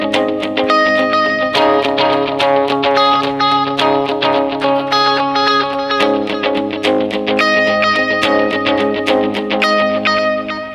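Electric guitar runs through a Triad pedal into a Liverpool preamp pedal, playing a song with quick, steady picked notes smeared by echo into a shimmering wash, loud and unbroken, no voices.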